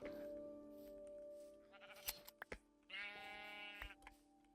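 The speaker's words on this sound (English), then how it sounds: "Oh my god, there's more sheep here." Sheep in a video game bleat in a few wavering, nasal cries, with a longer bleat near the end over a faint backdrop of game sounds and no talking.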